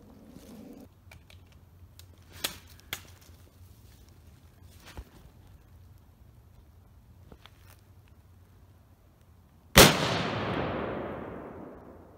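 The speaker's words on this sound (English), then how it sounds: "see how big the explosion is" Outdoors, a rifle shot sets off Tannerite placed at a tree: after several sharp, faint distant pops and clicks, a single sudden loud boom bursts out and rolls away in a long, decaying rumble.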